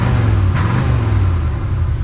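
A beat-up Oldsmobile engine holds a steady, loud rev against its RPM limiter, a continuous close droning roar with a low rumble and no breaks or talking.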